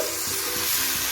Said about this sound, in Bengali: চালটা এবার ভালো করে ভাজবো।